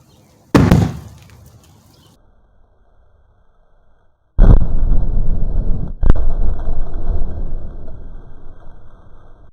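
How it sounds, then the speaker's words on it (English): Hydrogen-filled balloons ignited with a propane torch burst one after another: a sharp, loud pop, a few seconds of quiet, then a second heavy boom with a rumbling tail and a crack, recorded up close outdoors. "The balloon pops and even lit the next one"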